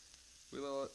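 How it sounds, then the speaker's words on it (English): Chunks of deer heart dropped into a very hot pan of oil set off a loud, steady sizzle that starts about halfway through and holds before easing slightly at the end. "We really let this oil get pretty warm. Get these chunks in there."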